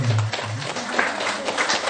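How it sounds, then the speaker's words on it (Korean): An audience claps steadily through a Buddhist dharma talk in a temple hall on a Jijang memorial day, forming a dense, even patter of many hands with no voices standing out. "박수 거기 쳐야지."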